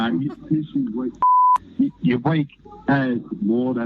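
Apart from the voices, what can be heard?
censor beep over a swear word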